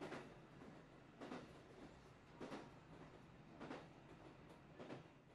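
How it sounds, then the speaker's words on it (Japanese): A train passing at a distance, faint and steady, with a regular clickety-clack of wheels over rail joints about once a second. "電車の音聞かないでください。"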